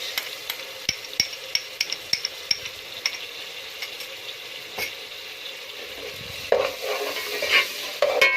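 Ginger-garlic paste added after cumin sizzles and spatters in hot oil in a pan, with scattered stirring clicks and a louder burst of frying toward the end.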